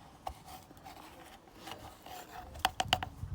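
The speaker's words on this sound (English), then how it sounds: "This is going to help me scrape it a little bit better" A pointed stick scrapes a homemade chalk mixture in soft, close rasping strokes, building to a quick cluster of sharper scrapes near the end.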